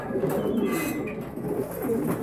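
An injured French meat pigeon with a broken leg and plucked feathers, now standing on one leg, gives soft low cooing under a steady, noisy rustle of a pigeon loft.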